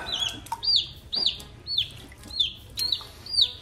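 Forty-five-day-old chicks chirp in quick repeated high peeps, about six clear calls in a steady rhythm, close by over faint background noise.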